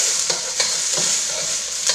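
Carrots sauté in a pan with onions and garlic, making a continuous bright hiss of frying with a quick, regular scraping rhythm as the vegetables are stirred and tossed, close and fairly loud, no talking.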